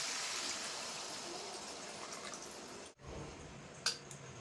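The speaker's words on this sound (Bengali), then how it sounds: "পরিমাণ মতো জল দিয়ে দেবো আমি" Water pours into a pan of jackfruit and chicken curry after the braise, a steady broad wash that cuts off sharply near the end, followed by a brief clink.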